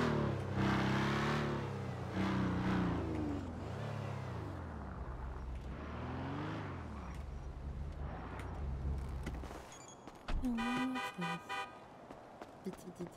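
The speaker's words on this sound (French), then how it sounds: "Elles sont lourdes ces voitures." A heavy car in the video game GTA drives through streets, its engine revving up and down in loud rising and falling sweeps, followed by a short honking horn near the end.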